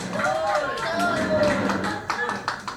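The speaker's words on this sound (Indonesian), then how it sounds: "Tuh belum apa-apa lo udah tepuk tangan" Scattered hand clapping and taps under lively overlapping talk and background voices, close by.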